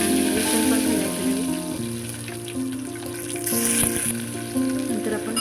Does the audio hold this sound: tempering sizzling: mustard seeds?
yes